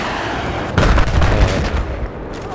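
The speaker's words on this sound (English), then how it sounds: "alright, I see gunfire." Gunfire in an Xbox One video game: a dense burst of shots and booms erupts close and loud after a brief lull, rattling on for over a second before easing back into a steady background din.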